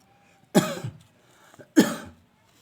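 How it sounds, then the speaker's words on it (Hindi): Two sharp, close coughs from someone speaking, about a second apart, each a loud burst trailing off into quiet room silence. "क्योंकि खांसी है आज इसलिए सॉरी।"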